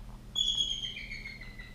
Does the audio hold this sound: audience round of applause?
no